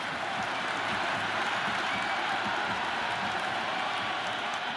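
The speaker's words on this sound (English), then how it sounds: "It's almost palpable, the excitement emanating from this crowd at the moment." Large cricket stadium crowd at the RCB vs GT IPL 2026 final roars in a dense, steady wash of cheering and applause, loud and continuous with no break throughout.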